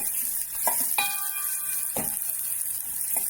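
Four slit green chilies hit hot oil in a pan with onion for Maharashtrian buttermilk kadhi, a steady hiss with a few sharp spoon clinks and stirring scrapes, close and clear.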